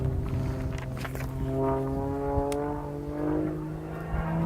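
An aerobatic propeller aircraft's engine and prop drone with a sustained, howling tone that rises and falls slightly, loud and close throughout, with flying wires singing during manoeuvres.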